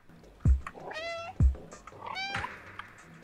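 A cat in the video game Stray meows twice in clear, bright calls, each preceded by a dull low thump, heard close and alone.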